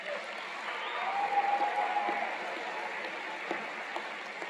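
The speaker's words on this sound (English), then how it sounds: "I like all the clapping." Graduation audience at a Florida Gulf Coast University College of Arts & Sciences fall commencement clapping steadily, a dense, moderately distant wash of applause with no one speaking over it.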